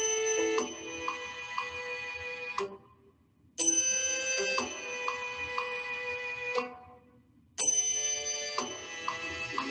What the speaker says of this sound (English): That big gong, that means 1 minute.